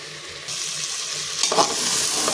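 Rice and spices sauté on a medium flame for khichdi, producing a continuous close sizzle that thickens and brightens partway through, with a brief stirring scrape; no voices.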